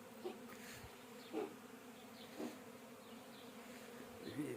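Bees buzz inside a beehive in Vinnytsia, a steady faint hum that swells briefly every second or so as insects pass close by.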